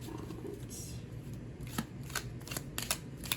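Tarot cards are shuffled by hand nearby, a soft steady papery rustle broken by a few sharper riffling snaps toward the end.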